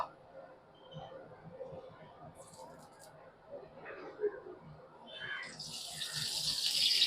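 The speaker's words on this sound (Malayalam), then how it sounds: "നമ്മൾ എണ്ണ ഒഴിക്കുകയാണ്" Sunflower oil is poured into a hot pan, building into a loud, hissing sizzle toward the end, with muffled voices in the background.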